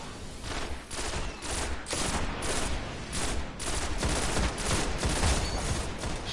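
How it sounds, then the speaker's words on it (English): Rapid gunfire rattles on almost without pause in a shooter video game while enemies are shot in the legs. The bursts are loud and close, with no clear break. "I killed them by shooting their legs."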